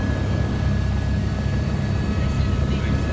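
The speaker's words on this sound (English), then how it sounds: "We're in a helicopter." Helicopter in flight over Rio de Janeiro in fine weather, a steady loud rotor and engine drone heard from inside the cabin, continuous throughout with a low rumbling hum.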